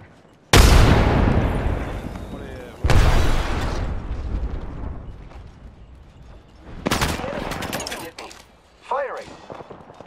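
Gunfire in the shooter Apex Legends, several loud, close weapon bursts with sharp attacks that ring out and fade between shots, over game sounds and a voice speaking.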